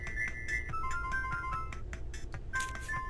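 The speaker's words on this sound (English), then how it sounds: "This new brain creek ringtone is hot." A phone ringtone plays in the video game Homestar Ruiner, a quick chiming electronic melody of bright stepping tones over low background rumble, fairly faint.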